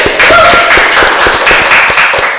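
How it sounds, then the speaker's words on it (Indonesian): Audience applause at a BMKG tsunami-awareness event, a loud, dense stretch of clapping with sharp individual claps standing out, steady for the whole span. "beri kita tepuk tangan dulu untuk"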